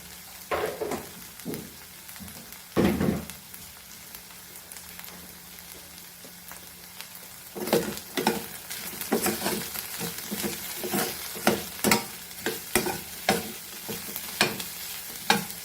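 Turmeric and coriander powder fry in a pan with a steady background sizzle. A spoon scrapes and stirs in irregular clusters of clicks, sparse at first and then busier and louder toward the end.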